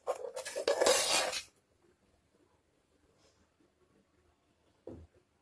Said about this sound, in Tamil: சால்ட் போட்டு நல்லா மிக்ஸ் பண்ணிடுங்க.